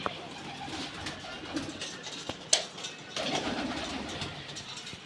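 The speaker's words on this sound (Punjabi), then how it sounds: "ਆ ਕਬੂਤਰੀਆਂ ਬੈਠੀਆਂ ਬਈ ਉਧਰ ਕਬੂਤਰ ਫਿਰਦੇ ਆ ਜੋੜੀਆਂ" Pigeons coo softly inside a pigeon room fitted with LED lights and nest boxes, under a low engine-like hum with a sharp click partway through.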